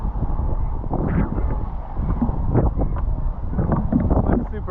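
Strong east wind buffets the microphone while riding a KT Solus 775 hydrofoil board at Maliko, a continuous rough roar with gusty surges across the whole stretch, no talking.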